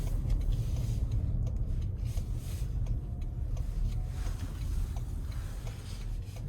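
A 2026 Toyota Grand Highlander Platinum AWD pulling away in rock and dirt mode under moderate throttle, a steady low engine and road rumble heard from inside the cabin, with faint ticking.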